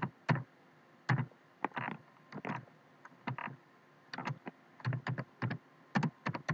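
Computer keyboard typing while a C printf statement is written, in irregular bursts of close, light key clicks with short pauses between them, no voices.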